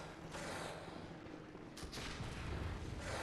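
Gunfire and booming blasts in the Bloodborne video game, including an enemy gunman's shot, loud and dense over a continuous rumbling game soundscape with no talking.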